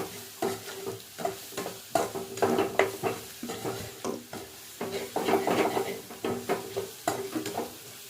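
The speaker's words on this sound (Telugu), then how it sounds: "ఇది కూడా బాగా కలుపుకోవాలి" A spoon stirs Maggi noodles with Maggi masala and egg in a pan, rhythmic scraping strokes with light sizzling and occasional clinks against the pan, close and alone.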